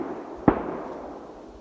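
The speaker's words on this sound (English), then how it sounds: "Gunshots." A single sharp gunshot rings out in woodland along the Appalachian Trail in New York, loud and fairly close, with a long echoing decay rolling through the trees afterward.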